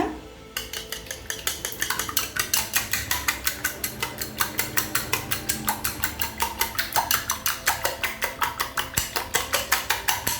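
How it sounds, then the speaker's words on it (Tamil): Five eggs with a little salt being beaten in a bowl, close up: fast, steady clinking strokes that repeat evenly for about ten seconds, with no voices. "இப்போ 5 முட்டையை உடச்சி வச்சுருக்கேங்க. இது கூடவே கொஞ்சமாக உப்பு சேர்த்துக்கலாம். இப்போ இதை நல்லா பீட் பண்ணிக்கலாங்க"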